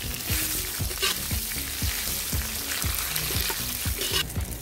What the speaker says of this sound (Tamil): இப்போ வந்து கட் பண்ணி வச்சுருக்க வெங்காயம் ஆட் பண்ணிக்கலாம்